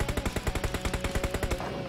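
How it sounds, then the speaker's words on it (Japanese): Rapid automatic gunfire in PUBG Mobile, close and loud, rattling in quick regular bursts of shots for the whole stretch with no talk. "結構近かったような気がするんだけど、銃声が"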